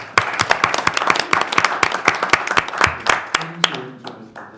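Audience applause at a Korean small-business policy forum held by a political party, dense hand clapping from a roomful of people that tapers off near the end as a voice begins to speak.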